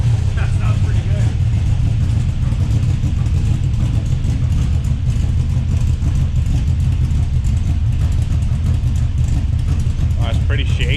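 An LS V8 running a new cam idles loud and close with a rough, uneven, loping rumble that shakes throughout, voices talking over the engine.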